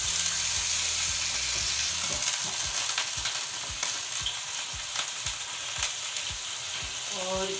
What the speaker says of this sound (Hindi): अब हम इसमें ये डालेंगे चिकन